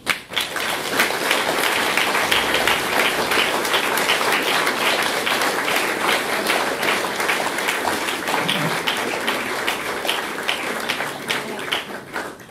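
Sustained audience applause at a Unity Day event, dense rhythmic clapping that starts abruptly and holds at an even level for over ten seconds before easing slightly.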